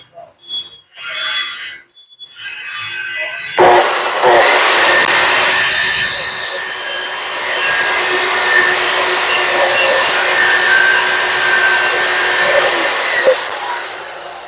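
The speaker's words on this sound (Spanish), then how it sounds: "Estoy rectificando el filo de corte a la broca cónica para que nos trabaje mucho mejor" A homemade conical drill bit has its cutting edge reground on a powered grinder, which starts abruptly after a few brief knocks and then whines loudly and steadily, with the pitch dipping and rising as the bit is worked.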